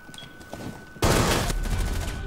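Gunfire rattles in the Rainbow Six Siege video game, a sudden loud burst of rapid shots breaking in after a quieter second of game ambience and continuing to the end.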